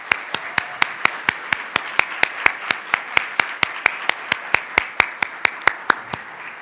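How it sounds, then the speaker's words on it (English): A lone person claps steadily at an even tempo, about two dozen sharp, distinct hand claps in a row at a civic club gathering, close and clear with no other voices. "we'd love to give you a round of applause if you want to stand"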